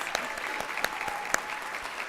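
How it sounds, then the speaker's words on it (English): Audience applause for the faculty at a nursing convocation and pinning ceremony, a steady wash of clapping from a seated crowd with a few sharper nearby claps standing out. "We can give them a round of applause, please"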